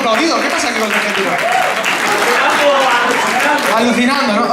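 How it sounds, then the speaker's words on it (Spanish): Audience clapping and cheering at a live concert, with a dense, loud wash of applause running under a speaking voice throughout. "a los argentinos les han aplaudido"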